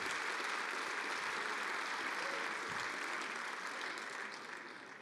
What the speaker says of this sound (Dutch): Geeft u hem ook even een hartelijk applaus.